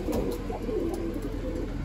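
A pigeon coos softly at close range, a brief low throaty burbling call from a game bird loft, alone without talk.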